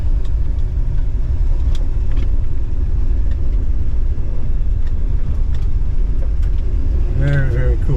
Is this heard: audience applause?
no